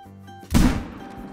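Hunting rifle shot at a chamois in the hunting game Call of the Wild, one sharp close report with a short rumbling tail, following a quiet ambient lead-in.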